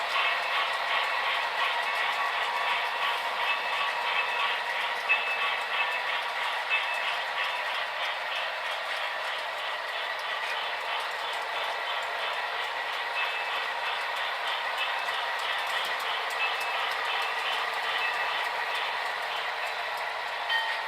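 An HO scale model locomotive, number 965, hums along the layout toward the roundhouse with a faint, steady whirring drone and light rhythmic ticking that holds evenly throughout.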